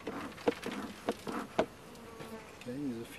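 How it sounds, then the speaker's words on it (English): Honeybees buzzing around a hive during smoking and pre-winter maintenance, a faint, close buzzing with intermittent taps and knocks from handling, and a soft voice briefly toward the end. "Okay, there's a few bees,"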